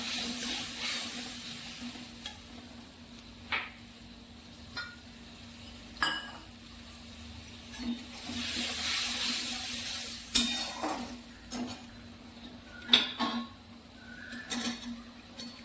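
Potato and paneer curry bubbling in a pot on a home stove, with a spoon clinking and scraping against the pot in scattered strokes over a steady low simmer.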